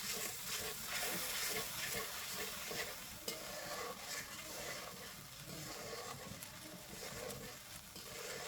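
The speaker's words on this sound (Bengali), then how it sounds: "আমার মশলা কষানো হয়ে গেছে" Masala of chili powder and turmeric with a splash of water is stir-fried in a pan for a Bengali koi fish dish, making a close, continuous sizzle broken by scraping stirs and an occasional clack of the spoon.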